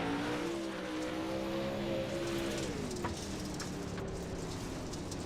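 A race car engine drones on the track at Fairbury in an Eastern Shore Racing League event, faint and distant under a steady wash of noise, its pitch easing down partway through.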